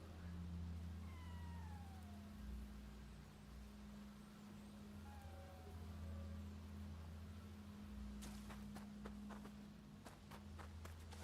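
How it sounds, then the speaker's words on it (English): A cat meows a few times in the game Nioh 2, thin rising calls over a steady low hum of background ambience, followed by a burst of sharp clicks near the end. "Oh, there's a cat here."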